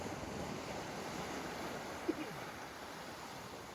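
Sea waves and rushing wind around a boat heading out toward open water, a steady broad wash of surf and wind buffeting with no clear talk.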